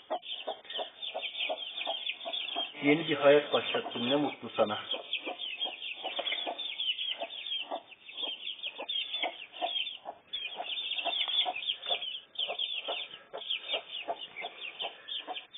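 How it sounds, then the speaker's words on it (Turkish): A black hen clucks repeatedly in a steady, close series of short calls, with a louder burst partway through, while a person speaks over the clucking. "Kahraman kara tavuk."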